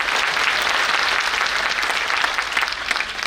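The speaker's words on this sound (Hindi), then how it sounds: "ताली बजाओ तो जोर से बजा दो" Audience applause at a campaign inauguration event, a large crowd clapping loudly and continuously, dense and even from start to finish with no voices on top.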